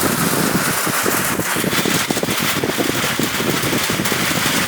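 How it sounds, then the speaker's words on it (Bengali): Steady, dense hiss of heavy rain pouring down, loud and continuous throughout with no pauses. "বাহিরে প্রচণ্ড বৃষ্টি হচ্ছে"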